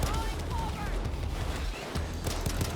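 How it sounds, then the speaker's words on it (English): Dense, continuous gunfire from the Payday 2 video game, loud bursts and rattling shots overlapping throughout, with a person talking over the shooting. "What the heck am I getting shot by?"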